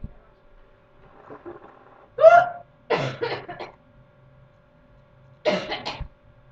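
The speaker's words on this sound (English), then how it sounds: "No, you had the hiccups." Several short, sharp hiccups break a quiet room, a few separated bursts with gaps of near silence between them, close to the microphone.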